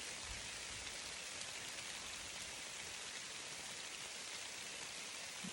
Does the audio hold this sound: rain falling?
yes